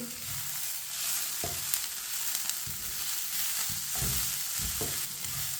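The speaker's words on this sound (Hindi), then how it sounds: "वो बॉईल किया हुआ चिकन डाल लेंगे। इसे भी मिक्स कर लेंगे।" Boiled chicken pieces are stirred into a hot frying pan, giving a continuous sizzle broken by several dull scraping knocks of the spoon, close up with no talking.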